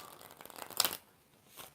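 A tarot deck is shuffled briefly, a soft riffling flutter that builds to one sharp card snap, then quiet with a faint rustle at the end.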